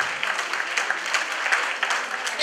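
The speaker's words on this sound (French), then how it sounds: "Sous vos applaudissements pour les femmes ambitieuses" Audience clapping in a hall at a student excellence day ceremony, a dense, even round of applause for the full stretch with no break.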